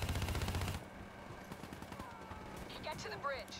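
Video game gunfire from Call of Duty Black Ops 3: a dense automatic burst at the start gives way to scattered distant shots, with voices talking underneath.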